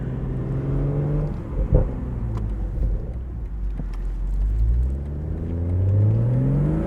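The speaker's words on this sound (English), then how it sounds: "you can hear in sport mode we get some really nice burbles on the overrun" A 2023 BMW Z4 M40i in sport mode lets its exhaust burble and crackle on the overrun, with a few sharp pops over a deep rumbling engine that falls, then swells again as revs climb.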